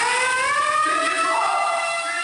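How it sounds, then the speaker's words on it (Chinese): A loud, wailing alarm siren blares continuously during a PLA Rocket Force drill, its rising and falling tone sounding alone with no talk. "警报大响，中共火箭军士兵集合装载物资"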